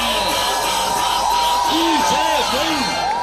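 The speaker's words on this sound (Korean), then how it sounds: "박수 함성" A crowd at a Korean election campaign rally cheers and whoops loudly with sustained noise, voices rising and falling in excited shouts, no speech standing out.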